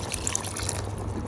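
Water pours into curry sauce in a clay pot, giving a steady, close trickling splash that runs without a break and eases slightly at the end, with no talking.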